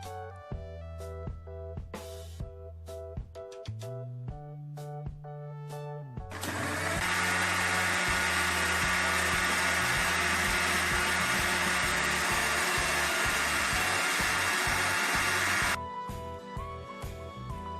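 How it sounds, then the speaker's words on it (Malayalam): A kitchen blender whirs loudly and steadily for about nine seconds, blending a tender coconut milk shake, between stretches of light background music with a quiet tonal melody. "ഇനി ഇത് നമുക്ക് നന്നായി അടിച്ചെടുക്കണം"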